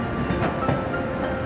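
The Tamralipta Express rumbles along in a steady, close and loud roar, with faint rhythmic clatter from the rolling carriages.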